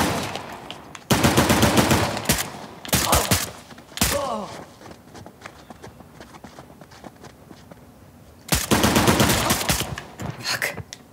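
Bursts of rapid gunfire in the video game Uncharted: The Lost Legacy, with loud automatic volleys separated by a quieter stretch of scattered footsteps and ambience, then another sustained loud burst near the end.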